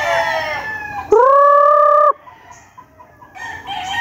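A stag, a young rooster, lets out one loud, sustained crow up close, framed by fainter crowing and clucking from other birds before and after.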